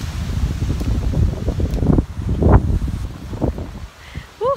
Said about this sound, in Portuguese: A ventania tá enorme hoje.